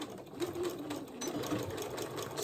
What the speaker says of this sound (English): Let's go back to straight stitch, Ab.